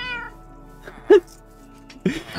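A single short meow from a cat in modded Minecraft, sharp and fairly loud, with softer game sounds around it and a brief burst of other noise near the end.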